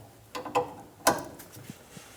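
A brake line fitting on a 2014-2018 Chevrolet Silverado rear center brake hose is tightened with a wrench, giving a few quiet metallic ratcheting clicks and taps, close by with no talk.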